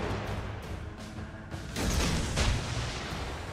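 The cruiser Königsberg fires its naval guns in a warship battle game, and a steady roar of heavy gunfire and booming shots rises to a louder rumbling burst midway.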